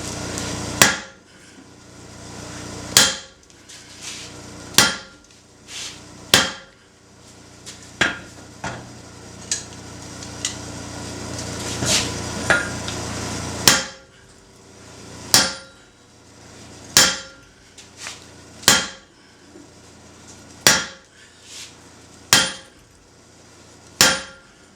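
An 8-pound sledgehammer strikes hot steel at a forge, sharp ringing metallic blows spaced irregularly about one to two seconds apart, loud and close, with no talking.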